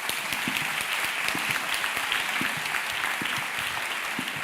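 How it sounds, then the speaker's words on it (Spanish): Dense, sustained applause from a sizable conference audience thanking panel speakers, a steady wash of clapping holding at an even level throughout. "Un aplauso, por favor."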